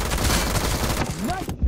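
Rapid bursts of gunfire from a BGMI (PUBG Mobile) gun-game match, dense and continuous with overlapping shots, then cutting off abruptly near the end.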